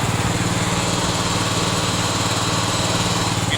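Small single-cylinder engine of a Craftsman LT1000 lawn tractor fitted with a 42-inch snow plow, running at about half throttle with the drive engaged, a loud steady close putter and hum without talk.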